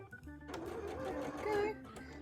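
Quick rattling run of a sewing machine stitching over a folded fabric edge while making a bra, close and fairly quiet, with the needle's rapid rhythmic chatter lasting about two seconds.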